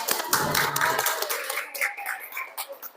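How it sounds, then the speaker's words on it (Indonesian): Classroom audience clapping after a group presentation at a teacher-training session at UIN Antasari Banjarmasin, a scattered round of handclaps that is dense at first, then thins out and fades over a few seconds. "Oke, beri aplaus."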